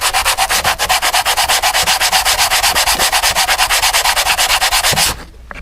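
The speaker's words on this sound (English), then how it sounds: "put some sandpaper on it, and rub your part on this nice hard flat surface." A thermostat part is rubbed back and forth on sandpaper laid over a hard flat surface, giving steady rhythmic rasping strokes, loud and close, about two per second, stopping just before the end.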